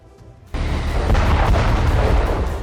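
A sudden heavy blast from the Russia–Ukraine war hits after a quieter moment, followed by a sustained loud rumbling roar that lingers to the end.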